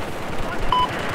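Battlefield 4 gunfire crackles in a rapid burst of shots, dense and mid-distance, over a busy rumbling battle background.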